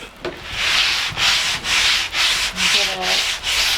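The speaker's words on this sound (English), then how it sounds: "I'm going to give it a little bit of a rough sand first" Rough, scratchy sanding strokes rasp back and forth on wood in a steady rhythm, about seven passes, close and loud with brief pauses between strokes.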